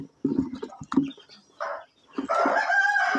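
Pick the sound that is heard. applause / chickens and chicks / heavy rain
chickens and chicks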